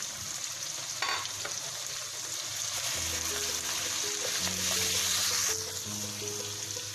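Steady loud sizzling of chicken with korma masala in a hot pan, with stirring and scraping throughout and a low tonal hum joining partway through.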